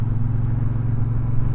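A Triumph Speedmaster motorcycle rides along a road, its engine making a steady, loud low drone throughout.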